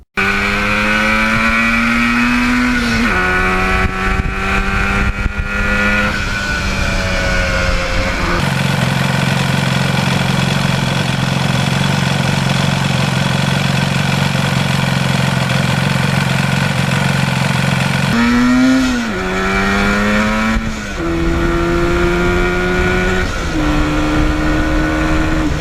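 A 1977 Yamaha RD400 two-stroke motorcycle runs close by with a tuned exhaust, its buzzy idle rising and falling through several revs, with a long steady stretch of higher, rougher running in the middle, loud throughout.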